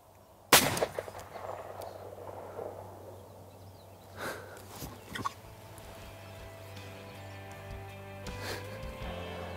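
A single loud shotgun blast at close range while turkey hunting outdoors, a sharp crack followed by a long fading echo, then a few softer knocks and rustles.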